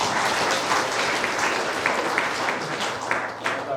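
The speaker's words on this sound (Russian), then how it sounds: "Давай поприветствуем Игоря аплодисментами." Audience applause welcoming speaker Igor Samartsev to an IT business talk, steady crowd clapping filling the whole stretch at moderate volume.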